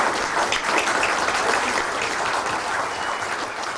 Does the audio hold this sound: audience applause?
yes